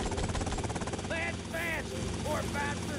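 Helicopter flying in the video game GTA Vice City, a steady rotor drone with a rhythmic chop heard beneath someone talking.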